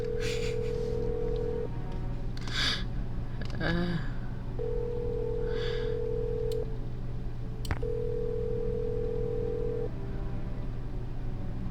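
Telephone keypad tones sound in a Nancy Drew video game, several steady dialing beeps in short separated bursts over a constant low background hum.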